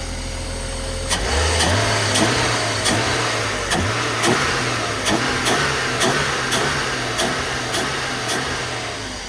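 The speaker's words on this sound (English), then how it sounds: "And from fast idle goes back to normal idle." A 2.6-litre car engine, recently repaired after 14k miles, idling steadily with a regular rhythmic ticking pulse and a brief rise in revs near the start, loud and close with no talking.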